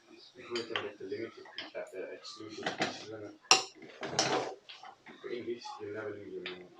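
Biryani of rice, mutton and spinach being stirred in a pot with utensils, clattering and scraping in irregular bursts beneath near-constant talking.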